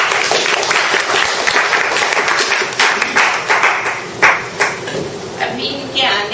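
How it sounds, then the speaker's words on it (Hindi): Applause from an audience, a steady spatter of many clapping hands with a few sharper claps standing out, fading slightly toward the end. "स्वागत कीजिए तालियां बजा।"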